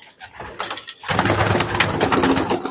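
Pigeons coo in a loft, with many overlapping throaty calls that swell suddenly after a brief lull and then continue densely, close and loud.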